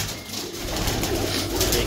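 Pigeons cooing nearby, a low soft warbling murmur running continuously over a steady background hum.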